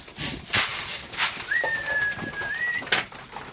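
Homing pigeons at a loft give a soft coo and a long, steady whistling call, with the flutter and rustle of birds moving close by.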